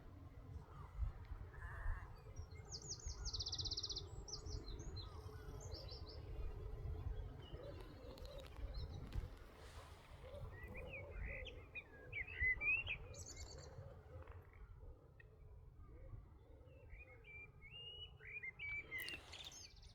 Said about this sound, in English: to the blackbirds sing.